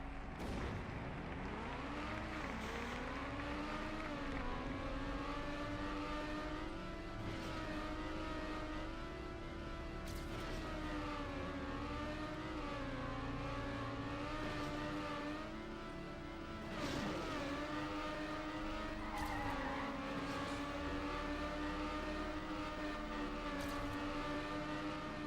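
Engines of video game race cars roar on a dirt track, rising and falling pitch as gears shift through a long continuous run, with a brief dip midway before the revving resumes, no talking.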